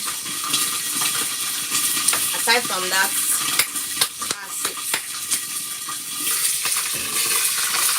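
Onion frying with bay leaf for a stew gives a steady, close sizzle with stirring and the occasional clink of a utensil, while a person talks over it.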